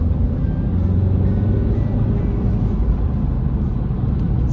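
Steady low exhaust rumble from a Ford car with a 4-inch tailpipe tip, a continuous deep drone holding level throughout with no talk over it.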